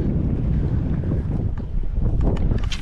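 Wind buffeting a microphone on a fishing jetty, a steady low rumbling gust with slight swells and a faint hiss near the end, no voices.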